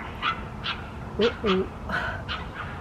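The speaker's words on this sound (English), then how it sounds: "That was a teeny tiny little dog." A teeny small dog yips and barks in short, separate bursts, about six times over a few seconds, heard outdoors at a moderate distance with a light background hiss.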